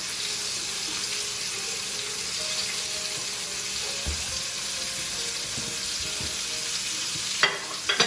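Butter sizzling in a hot pan alongside a searing cauliflower steak, a steady hissing fry with light clinks near the end, close and continuous with no talking.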